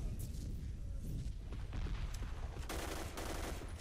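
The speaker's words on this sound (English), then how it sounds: "I really gotta stop using my assault rifle." Assault rifle fire in the shooter game Black Squad, on a Destruction match on the Bearcamp map, comes as dense, sustained bursts with a heavier cluster near the end, all at steady volume with no talking.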